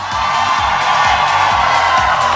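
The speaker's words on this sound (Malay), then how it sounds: "Dengarkan sorokan, sorokan, sorakan" A concert crowd at the Akademi Fantasia season 9 show roars with loud, sustained cheering and high whoops, a dense wall of voices that holds steady throughout.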